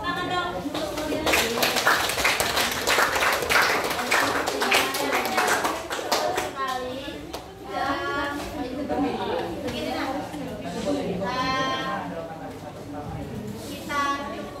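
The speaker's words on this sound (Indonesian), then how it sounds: "Baik, tepuk tangan dong untuk model." Classroom students break into applause, a dense burst of clapping for several seconds, before a teacher's voice takes over and talk continues.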